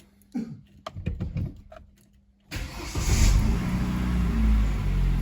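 A Chevrolet Aveo, just serviced with an oil change, has its engine started: a few clicks and a short cranking whir, then the engine catches and settles into a steady idle close by, with no talking.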